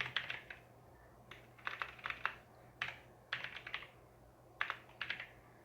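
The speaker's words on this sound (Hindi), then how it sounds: "तो यहाँ पर हमको टाइप करना है" Typing on a computer keyboard while setting up media on Windows Server 2022, with quick bursts of close, crisp key clicks separated by short pauses over a faint steady hum.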